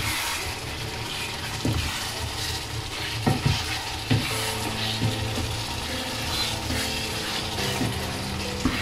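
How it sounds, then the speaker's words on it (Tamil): Chicken curry with chili powder being stirred in a pan, a steady loud sizzle and frying hiss with occasional scraping knocks of the spoon against the pan. "போட்டுட்டு நல்லா கிளறி போட்டு"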